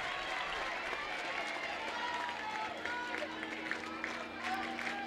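An Alabama softball crowd cheering and clapping at a game, a loud sustained roar of voices and applause from the stands, heard from a broadcast booth with a commentator talking over it.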